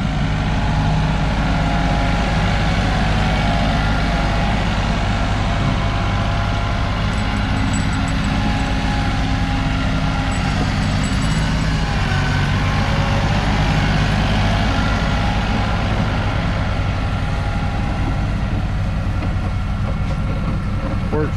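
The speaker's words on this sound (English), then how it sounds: "Here he comes with the skid steer." A skid steer's diesel engine runs steadily while pushing snow outdoors, a loud, continuous low rumble that holds for the whole stretch.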